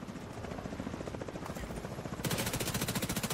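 Steady automatic gunfire in The Division 2 with a helicopter-like throbbing pulse, a rapid, regular chatter that grows louder and brighter near the end.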